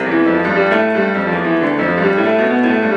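Dense, continuous piano playing of a Hanon exercise with many overlapping notes, sounding cluttered and smeared as the two hands are slightly out of step.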